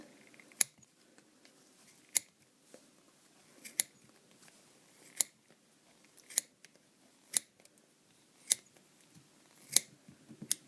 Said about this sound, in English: So I'm going to hold down the arms again and start cutting.